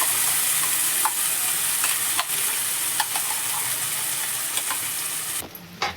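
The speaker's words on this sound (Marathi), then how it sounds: "आपल्याला असंच हलवीत राहायचंय" A ground peanut and milk mixture for peanut barfi is stirred in a pan, a steady loud bubbling hiss with occasional spoon scrapes, quieting abruptly near the end, with no voices.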